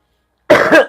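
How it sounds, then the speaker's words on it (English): A single person coughs sharply in a kitchen during cooking, a short harsh burst followed by a second brief cough at the end, close and loud with no talk. "Always cough away from the food."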